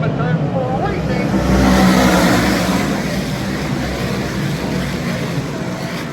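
Race cars roar off turn four of an oval track in a loud, sustained engine drone that swells briefly as the pack passes, with a faint voice underneath.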